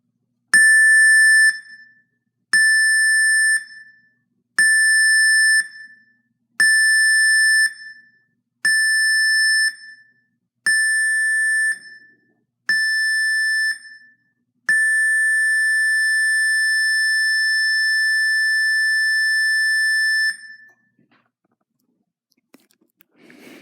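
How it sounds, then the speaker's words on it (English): A Princess Cruises Royal Class ship's muster drill alarm: seven short loud electronic tones at steady intervals followed by one long sustained tone, clear and alone, with a faint voice after. "I'll do it one more time. The alarm."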